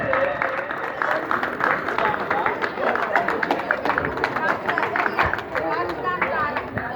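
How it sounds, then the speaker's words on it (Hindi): Applause from an assembled school crowd welcoming the flag at a ceremony, steady dense clapping throughout with crowd murmur mixed in. "समय तालियों से झंडे को स्वागत करेंगे"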